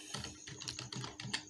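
Rapid keystrokes on a computer keyboard while a git branch name is entered, a close, light run of irregular clicks with no talking.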